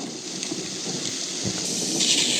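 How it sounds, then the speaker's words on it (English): A heavy storm pelts down over the Blaxland Ridge Viaduct, with dense, continuous rain hissing and a low thunder rumble building over a couple of seconds. "The storm was pelting down over the Blaxland Ridge Viaduct."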